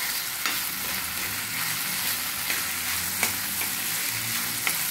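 Moong dal roasting in a pan over a low flame, a steady soft sizzle and dry crackle with occasional light stirring scrapes, close and continuous with no voices.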